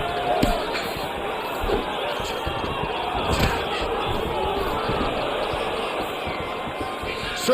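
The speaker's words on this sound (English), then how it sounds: "You hear this crowd just eating out of his hand, oohing and on every time he advances." A crowd in the EA Sports UFC video game during a heavyweight fight keeps up a continuous roar, rising into oohs, with occasional thumps of landed strikes underneath.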